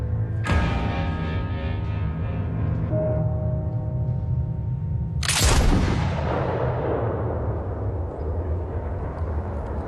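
Two loud gunshot blasts several seconds apart, each sharp crack trailing off into a long, rolling echo.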